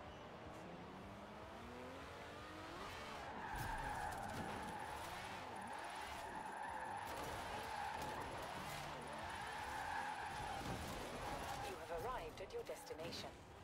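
Car drifting with skidding, squealing tyres in Forza Horizon 4, the engine revving steadily throughout, close and loud, with someone talking over it.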